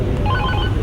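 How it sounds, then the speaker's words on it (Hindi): A telephone rings with a short burst of warbling electronic tones inside the Aam Aadmi Party's Mumbai office, clear over a steady room hum. "आम आदमी पार्टी के मुंबई दफ्तर में फोन की घंटी रुकने का नाम नहीं ले रही।"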